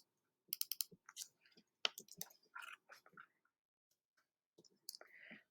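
Sharp mouse clicks, including quick double clicks, tapped on a computer while working through a graphing exercise; bursts of close, crisp clicks with short pauses between them.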